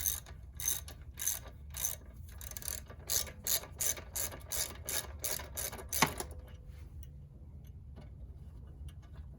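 A cheap socket wrench ratchets rapidly while bolts are loosened on a Kawasaki KLX motorcycle exhaust, a close run of sharp clicking bursts that stops after about six seconds, leaving a quiet background.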